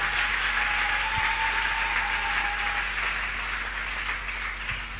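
A church congregation applauds steadily at a Thursday worship and deliverance service, dense continuous clapping filling the room at an even level for the whole stretch, with no voices over it.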